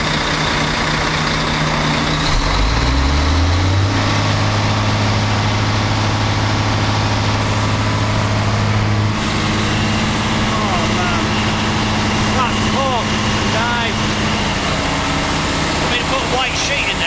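A vehicle engine idles, then is revved hard, climbing quickly to a high sustained drone that holds for several seconds before easing back to a lower running note, with voices talking nearby.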